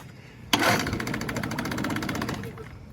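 A secondhand outboard boat motor catches, sputters and runs briefly with throttle applied during a test start, its rough buzzing engine note lasting a couple of seconds before fading, heard close and fairly quiet.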